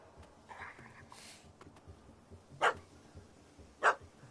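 Two sharp, separate dog barks from a video game, Witcher 3: Heart of Stone, each short and fairly loud, about a second apart over a quiet ambient game background.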